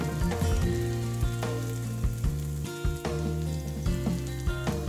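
Ginger and garlic paste mixed with water sizzles as it is stir-fried for a spice pork curry, a steady crackling fry with small pops under background music.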